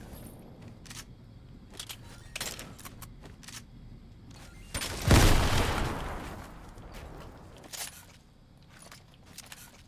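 Gunfire in the battle-royale video game Fortnite, with a few sharp distant shots scattered through the clip and one louder burst near the middle, over faint game ambience.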